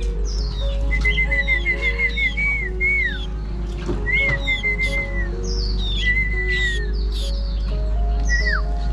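Several wild birds whistle and chirp in repeated rising and falling calls over a steady low rumble outdoors in the northwest Vietnamese highlands, some notes clear and near, others fainter.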